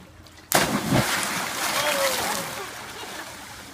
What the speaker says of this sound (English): Dude just shot water out of the pole.